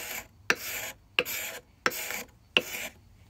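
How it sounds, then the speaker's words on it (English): A knife blade shaves curls of wood from a new handle for a vintage axe head in four close, rasping strokes, each about half a second long with short pauses between, and no talking. "And I'm just shaving away wood with my knife blade."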